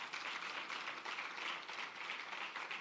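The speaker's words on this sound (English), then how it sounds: "Give her a round of applause." Applause from an audience at an export academy launch event, greeting the master of ceremonies: a steady, fairly faint wash of many hands clapping, even and continuous with no talk over it.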